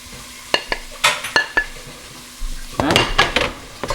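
Spices fry with onions and garlic in a pan, giving a soft sizzle under repeated sharp scrapes and clinks of a utensil stirring against the metal, with louder bursts of stirring near the end.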